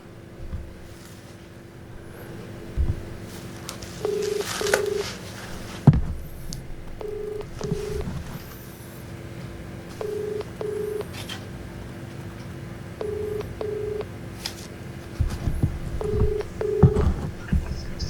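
A series of short electronic telephone dial tones beeping in irregular clusters over a low steady hum, with a few soft thumps.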